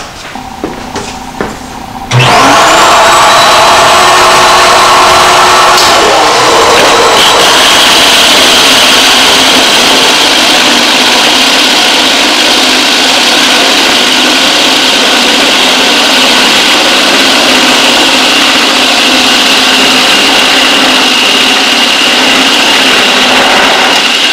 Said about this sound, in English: So now we're going to demonstrate the 9-inch edger.